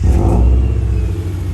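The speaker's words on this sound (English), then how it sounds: "I'll give you guys a nice cold start of the unequal" An ice-cold Subaru Impreza from the 2008–2014 generation, with an unequal-length exhaust, starts and settles into a loud, deep, burbling rumble at close range.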